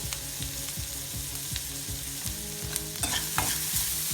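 Carrots sautéing in a hot pan for stuffed onions, a steady sizzle with regular rhythmic scrapes of a spoon stirring through them, close and alone with no voices.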